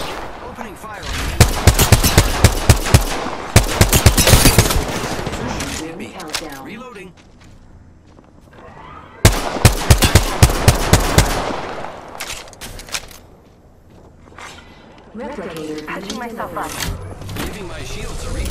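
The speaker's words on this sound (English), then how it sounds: "I'm taking fire, friends." Rapid bursts of automatic gunfire crackle loudly in an Apex Legends match, two dense volleys separated by a lull, with a voice talking over the shots.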